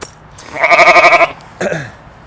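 Sheep kept off pasture and fed hay bleat loudly and close by: one long, wavering, pulsing bleat, then a shorter second call after a brief pause.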